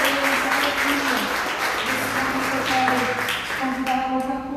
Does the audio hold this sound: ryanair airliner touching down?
no